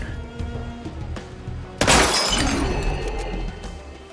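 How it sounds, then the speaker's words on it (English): Glass shatters with a sudden loud burst amid game music and effects in the SteamWorld Heist II turn-based shooter, the bright crash trailing into a scattered tinkling decay that lasts a couple of seconds, with no talk. "So since I broke his glass"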